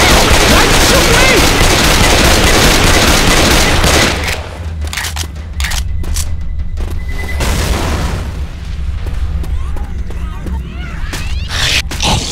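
Gunfire in the game Left 4 Dead 2, a dense, loud burst of overlapping shots for the first four seconds, then scattered sharper single shots and bangs, with game voices mixed in.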